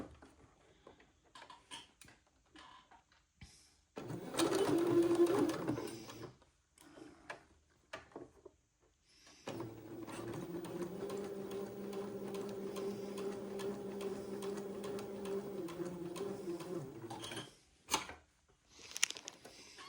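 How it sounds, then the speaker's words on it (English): A sewing machine runs the first pass of a French seam on an Eton suit, a short whirring run followed by a longer steady stitching drone of about eight seconds, close and alone. "Sew the first pass of the French seam."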